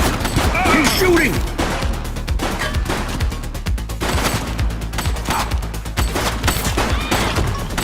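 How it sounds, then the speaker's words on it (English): A suspect in the police video game The Precinct opens fire in rapid, repeated bursts of loud gunfire, with sharp overlapping shots and crashes, mixed under shouted voices. "He's shooting!"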